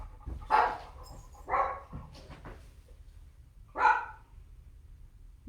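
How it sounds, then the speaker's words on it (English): Three muffled dog barks, somewhat distant, spaced irregularly over a quiet background, with no talking. "Maybe have some barking dog in the background."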